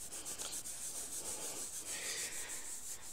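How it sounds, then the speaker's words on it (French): A small metal object found in a forgotten village is rubbed briefly against a cotton t-shirt, giving a soft, steady scratchy rubbing close up with nothing else heard. "Je frotte un tout petit peu sur mon t-shirt"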